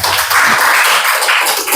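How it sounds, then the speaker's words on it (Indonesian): A classroom of students claps hands in a short, dense burst of overlapping claps, loud and close, lasting under two seconds with no talk. "tepuk tangan"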